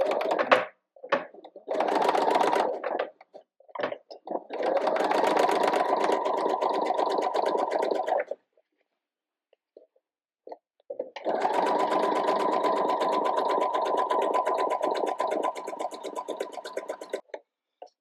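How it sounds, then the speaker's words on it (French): A sewing machine runs a triple stitch seam 1 cm from the edge of pyjama fabric, in three bursts of steady close mechanical whirring separated by brief pauses, with no talk. "Donc on va venir coudre ici à 1 cm avec le point triple."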